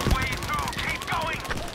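Gunfire in a shooter video game, including sniper shots, sounds as a muffled, continuous rattle under a busy mix with a voice talking over it.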